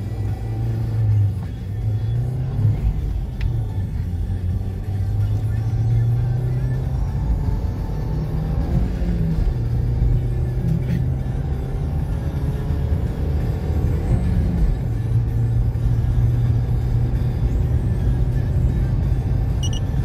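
A two-litre Suzuki Vitara accelerates hard, its engine holding a loud, steady droning rumble with pitch shifts between gears, close and continuous, with occasional talk over it.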